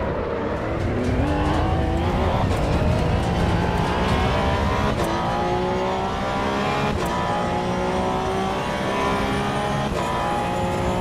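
A race car in Assetto Corsa EVO runs at speed while warming its tyres, the engine droning and revving steadily with rising gear sweeps and short shift blips, loud and continuous with faint tyre scrub.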